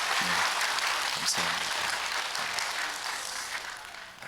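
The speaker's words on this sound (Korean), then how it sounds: "다시 한번 여러분 이 가족을 위해서 박수해 주세요." A church congregation applauding for a family, a dense wash of clapping from many hands that holds steady and slowly fades, with a brief spoken thanks near the start.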